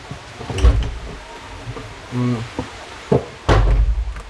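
A door is shut in a home during rain, giving a couple of solid thuds and a short rattle, with brief voices nearby.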